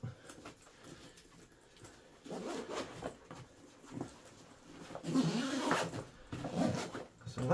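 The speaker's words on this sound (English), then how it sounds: "So that zips up" A zipper is drawn closed on a padded Waterfly Natu musician's bag packed with synthesizers, a few quiet scratchy pulls close by with rustling of fabric in between.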